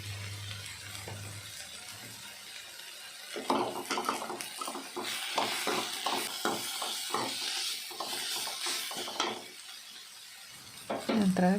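A spoon scrapes and stirs through masala frying in a pan after turmeric powder goes in, for homemade masala puri, with a run of close, rhythmic strokes over a low sizzle after a quiet start.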